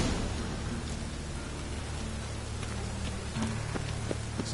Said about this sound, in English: It just rains